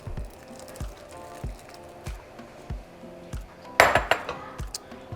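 Beans tip into a simmering pot of carne en su jugo, braised beef in tomatillo sauce, with soft wet plops, repeated low thumps and a cluster of clinks from a utensil against the pot.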